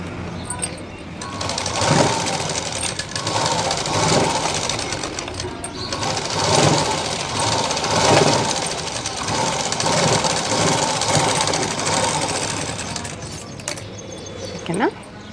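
A sewing machine runs close and loud, top stitching a belt in long whirring bursts. The needle hammers rapidly through each burst, which is separated by brief pauses, and the stitching continues under a voice that talks in the background.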